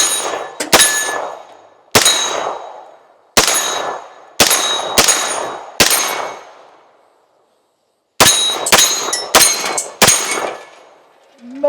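Sharp, loud gunshots from a Daniel Defense 9mm pistol-caliber carbine ring out singly at irregular intervals, each with a metallic ring and decay, a pause, then a quicker string of shots.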